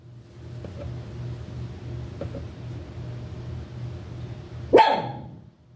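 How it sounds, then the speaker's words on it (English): A dog lets out a single sharp, loud yelp near the end, breaking a quiet stretch of low steady hum and faint clicks. "my dog just yelped"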